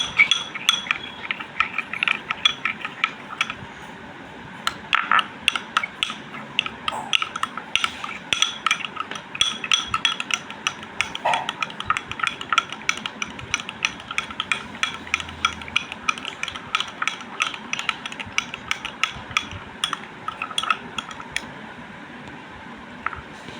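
A spoon clinks steadily against a bowl while burger mayo is stirred together with chilli flakes, the quick repeated taps running throughout at close range with no talk.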